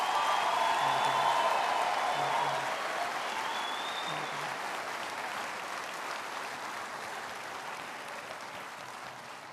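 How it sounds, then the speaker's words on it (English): Graduates at an autumn graduation ceremony receive a big round of applause from a large audience, a dense, sustained roar of clapping with a few whoops early on, gradually thinning over nearly ten seconds. "Let's offer one big round of applause to our graduates"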